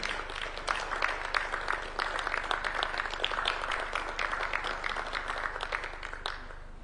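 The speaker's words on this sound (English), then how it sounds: "and a round of applause" Sustained round of applause from an audience at a bilateral agreement signing ceremony, steady dense clapping from many hands throughout, fairly close and even in level.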